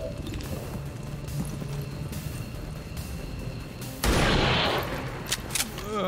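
Gunfire from a soldier shooting at an enemy trooper in the video game XCOM 2: a sudden loud volley of shots bursts out midway over quieter game ambience, followed by a few scattered cracks.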